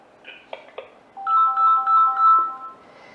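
A phone ringtone from an incoming call to a live prayer call-in programme: a few soft clicks, then a loud, bright repeating electronic melody of short beeps that stops abruptly.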